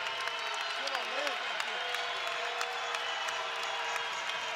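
A basketball arena crowd applauds and cheers after a three-pointer in a close two-point game. A steady wash of clapping and crowd noise fills the space while a commentator talks over it.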